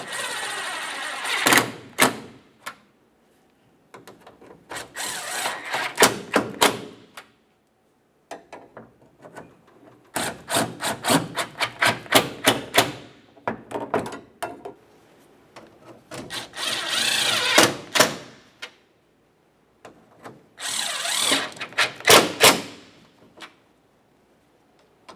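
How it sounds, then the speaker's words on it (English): A power tool drives the grille mounting nuts on a 1994–2002 Dodge Ram 2500, in five separate bursts of rapid, close ratcheting clicks with short quiet gaps between them. "Now we can tighten each one of these mounting nuts."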